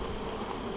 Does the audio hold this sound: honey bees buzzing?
yes